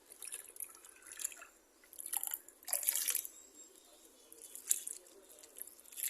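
Water splashes and trickles onto the soil of a potted rose plant in uneven bursts, with soft drips and patters between pours, close by and fairly quiet.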